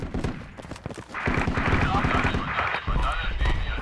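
Close, rapid automatic gunfire in the military shooter Project Reality, a steady rattling stream of shots that grows louder and denser midway, with a voice talking over parts of it.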